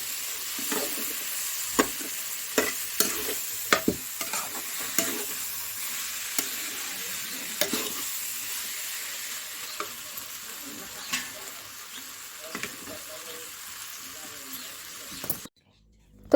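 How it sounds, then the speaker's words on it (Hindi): Green bean seeds and potatoes stir-frying in a pan for a dry vegetable dish, with a steady sizzle under repeated scraping and clinking of a spatula, close by in a village kitchen. "तो सूखी सूखी सब्ज़ी बनाएंगे सेम और आलू की"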